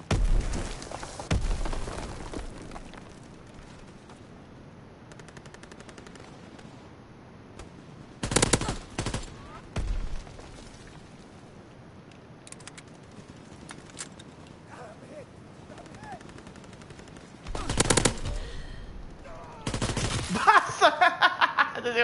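Machine gun fire in the Call of Duty WWII multiplayer game, coming in several loud sustained bursts separated by quieter gaps, with game ambience between them.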